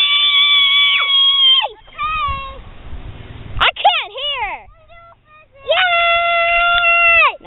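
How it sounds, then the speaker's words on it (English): Children scream with excitement outdoors just before a model rocket launch, several high, sustained shrieks rising and falling, loud and close, with short pauses between bursts. "give me a scream if you're excited"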